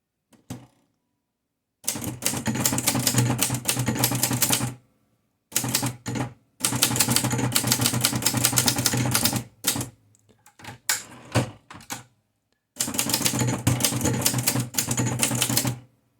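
A Torpedo Dynacord S manual typewriter being typed on, heard up close: several bursts of rapid, clattering keystrokes with short pauses between runs and a few isolated clacks, and no talking.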